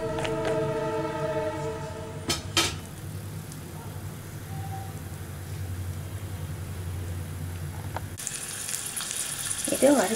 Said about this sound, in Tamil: இப்போ நம்ம முந்திரியும் வேர்க்கடலையும் வறுத்துக்கலாம்